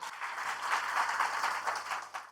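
An audience at a direct selling and business leadership seminar gives a hearty round of applause, a continuous, fairly loud wash of clapping over a low steady hum.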